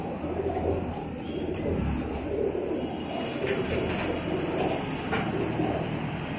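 Teddy pigeons, young birds kept for sale with breeding pairs nearby, coo softly amid a dense background of fluttering and low rumble, with indistinct chatter faintly present.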